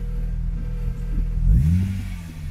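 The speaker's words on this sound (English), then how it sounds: "now we have an exhaust rattle" A Lexus GS300 driving with an exhaust rattle, heard as a steady low engine drone that swells into a louder rumbling rise partway through, close and without talk.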